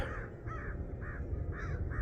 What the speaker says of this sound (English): Those crows aren't afraid of anything.